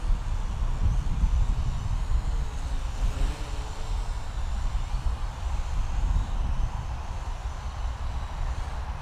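A small Wltoys Q393A FPV quadcopter hovers nearby, its propellers giving a steady, fairly loud whirring drone that holds without pause throughout, with no talking.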